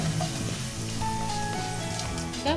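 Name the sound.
bitter gourd frying in oil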